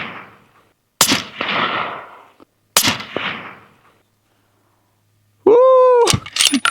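Rifle firing hand-loaded cartridges in Peterson brass: two sharp, loud shots about two seconds apart, each trailing off in a long echoing decay, followed by a short rising electronic beep.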